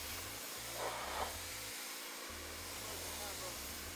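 Pressure-washer water spray hissing steadily against a Mini during a car detailing wash, blasting out dirt and grime; a broad continuous rush with a low motor drone underneath, briefly louder in short bursts.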